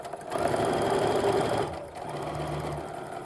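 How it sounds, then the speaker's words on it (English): A sewing machine chain pieces quilt blocks for a sawtooth star and log cabin design, running in a steady close whir with a brief pause near the middle before resuming at a slower pace. "Now, when I'm chain piecing, I always slow down at the beginning and end of a block"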